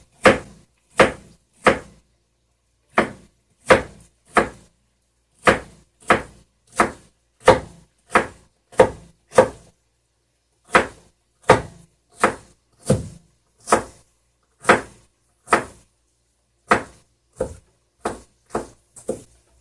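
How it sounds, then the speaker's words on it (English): Steady knife chops strike a cutting board as celery is cut, sharp and close, in a brisk regular rhythm with a few short pauses. "Chopping up the celery into thirds here, tripling my efficiency."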